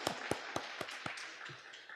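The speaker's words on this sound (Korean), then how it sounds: "우리 총무님 박수 한번 쳐줍시다" A church congregation claps for its secretary, with a quick run of sharp, evenly spaced claps in a small room that soften as they go.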